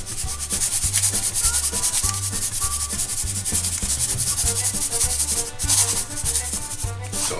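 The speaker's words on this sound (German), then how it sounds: "Vermengen das erstmal. Können wir mit der Hand machen" Minced lamb being kneaded by hand with garlic and salt for Adana skewers, a continuous close wet squelching and rubbing that keeps up throughout with no talk.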